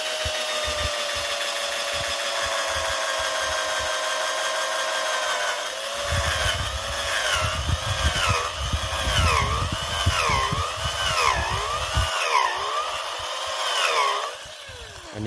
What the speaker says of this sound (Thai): ขั้นแรกเลยนะครับก็คือการต้องใช้สว่านนะครับ เจาะเข้าไปที่ต้นนะครับ